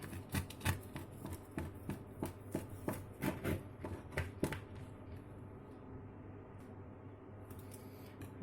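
A knife slices through a sugar-dusted strawberry pie, a series of close, crisp cuts and taps in quick bursts that slow and soften toward the end.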